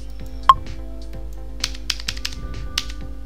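A few crisp keyboard key clicks, one sharper press near the start followed by several lighter taps, close and isolated over a faint steady hum.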